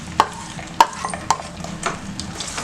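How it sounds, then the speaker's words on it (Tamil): Halwa paste being stirred in a pan, soft wet scraping and clacking of a spoon with a few sharp knocks against the pan over a faint background sizzle. "கைவிடாமல் நல்லா கலக்கிக்கிட்டே இருக்கலாம்"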